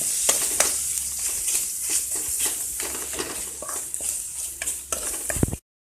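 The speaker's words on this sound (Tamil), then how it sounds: "இப்போ நம்ம இஞ்சி பூண்டு பேஸ்ட் சேர்க்க போறோம். சேர்த்து இதையும் நல்லா வதக்க போறோம்." Onions and ginger-garlic paste sautéing in a pan for a citron pickle, with a steady close sizzle broken by repeated scraping stirs of a spatula, ending abruptly.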